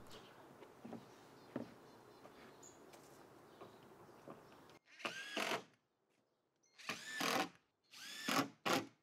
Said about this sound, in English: set it in place, tack it down with a couple of screws